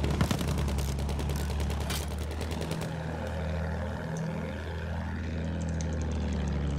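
A bomber aircraft drones overhead in the Battlefield 1 video game, a heavy propeller roar with rapid machine-gun bursts rattling over it at first, then the engine hum carries on alone, loud and close.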